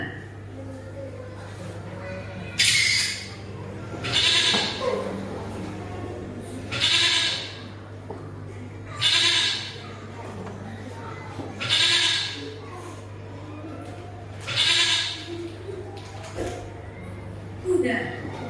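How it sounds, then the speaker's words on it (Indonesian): A sheep bleats about seven times at fairly regular intervals of two to three seconds, each call loud and close against a low steady hum. "Domba."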